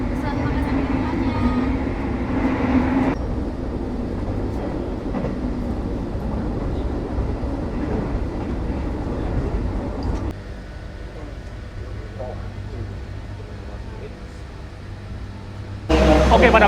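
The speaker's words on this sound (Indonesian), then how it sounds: "kereta api tambahan Lempuyangan Pasar Senen telah tiba di stasiun Kutoarjo" Extra passenger train from Lempuyangan to Pasar Senen arriving at Kutoarjo station, a steady rumbling roll of rail cars heard from on board, with a voice talking over it throughout.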